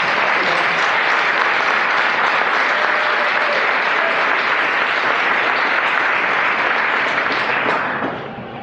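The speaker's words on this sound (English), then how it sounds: "And can we get a round of applause?" A large audience applauds the technical judges at a design challenge finale, a dense, loud, steady wash of clapping that holds for about eight seconds before trailing off at the end.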